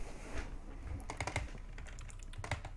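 Computer keyboard typing during a Minecraft PvP gaming session, a quick irregular burst of clicky keystrokes, close but quiet, with no talking.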